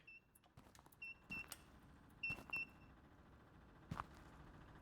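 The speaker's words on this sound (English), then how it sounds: "What is that beeping?" Short electronic beeps ring out inside the Mine Mogul video game, a few paired tones spaced irregularly across a quiet cavern backdrop, faint and with no speech over them.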